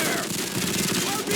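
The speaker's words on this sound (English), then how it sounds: "Lay down suppressive fire!" Rapid automatic gunfire in the 2007 game Call of Duty 4: Modern Warfare, a dense, loud rattling burst of suppressive fire filling the short moment, with voices shouting underneath.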